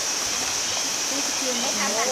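Khun Korn Waterfall, the tallest falls in Chiang Rai, pouring through the forest as a steady broadband rush of water, with a faint voice occasionally audible beneath the continuous roar.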